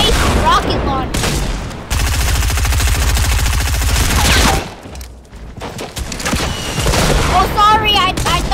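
Rapid automatic gunfire and heavy blasts from a rocket launcher in the Fortnite video game, in loud sustained bursts broken by a brief lull and then more shots.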